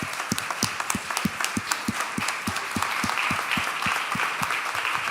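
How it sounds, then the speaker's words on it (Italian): A church congregation claps together in steady, rhythmic unison, the sharp claps evenly spaced and fairly close, with a soft murmur of the crowd underneath and no clear talk. "Facciamo un applauso al Signore."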